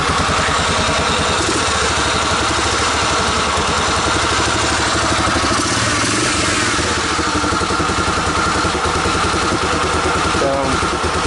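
An ATV engine with a flooding carburetor and a suspect starter clutch idles loudly and steadily up close, a rough clattering running note with a faint whirring under it throughout.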